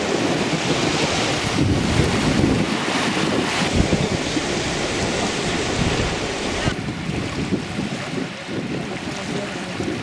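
Sea waves roll and break on the shore at Kolka, Latvia, with a loud, continuous surf roar and gusty wind buffeting the microphone throughout.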